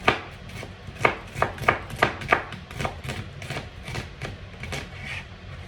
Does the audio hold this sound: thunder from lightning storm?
no